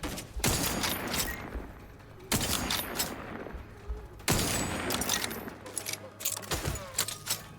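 Repeated bursts of rifle gunfire in The Outer Worlds 2, loud and close, come in three main volleys with scattered shots and mechanical clicks between them, and a voice speaks briefly.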